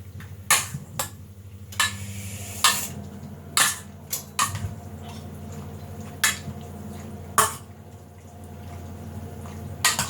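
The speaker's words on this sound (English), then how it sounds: "Give it another mix." Pasta salad being mixed in a bowl: a steady run of sharp, separate clinks and wet scraping taps, roughly one every second, close and fairly loud with no talking.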